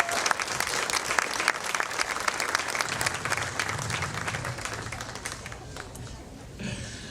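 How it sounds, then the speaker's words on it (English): A crowd applauds the finalists of a women's open tournament final in Nova Scotia, with loud, dense clapping that rolls on steadily and begins to thin toward the end. "a round of applause for our finalists"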